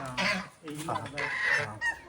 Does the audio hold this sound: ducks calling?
yes